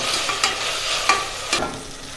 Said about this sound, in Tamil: இப்போ இஞ்சி பூண்டு நல்லா எண்ணெய் திரண்டு வர வரைக்கும் நல்லா வதக்கிக்கோங்க.